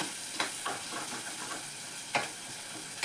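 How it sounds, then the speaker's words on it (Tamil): Ginger and garlic sauté in a pan for a Kerala-style fish curry. A quiet, even sizzle carries on underneath, broken by several sharp scraping stirs of a spoon. No one speaks. "இஞ்சி வெள்ளைப்பூடு கொஞ்சம் அந்த வாசம் கொஞ்சம் போகிற வரைக்கும் கொஞ்சம் வதக்கிட்டோமோ நல்லா இருக்கும்"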